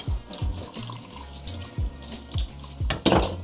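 Water splashes in a sink in a workshop with a crashed Audi S3, with uneven gurgles and drips that start and stop, close and moderately loud.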